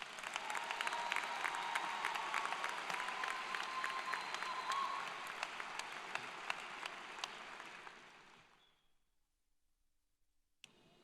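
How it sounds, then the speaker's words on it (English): Sustained audience applause at a graduation ceremony for speakers and musical performers, a dense steady clapping that holds for about eight seconds, then fades quickly to near silence, with one brief faint clap near the end. "let's give our speakers and those who performed our musical numbers one more round of applause"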